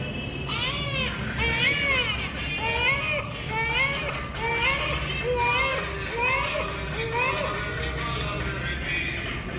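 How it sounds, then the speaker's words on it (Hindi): A recorded baby's cry is played back to the sound sensor of an IoT smart cradle, a continuous loud wailing with repeated rising and falling sobs that lasts throughout the stretch. "साउंड प्ले करने वाले हैं जिसमें बेबी रो रहा है"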